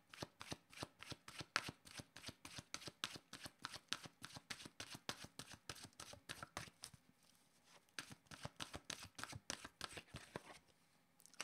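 Oracle cards being shuffled by hand, a long run of rapid, regular riffling flutters with a brief pause near the end before the shuffling resumes, close and fairly loud with no voices.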